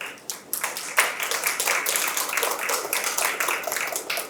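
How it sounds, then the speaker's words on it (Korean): Audience applause at a Korean academic conference on independence movements, a room of many hands clapping steadily and densely for several seconds after a presenter is introduced. "박수 부탁드립니다"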